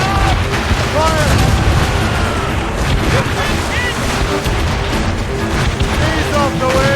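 Ship cannons fire in a naval battle in Assassin's Creed Rogue, heavy booms rolling over a constant roar of sea and wind, with shouted voices mixed in throughout.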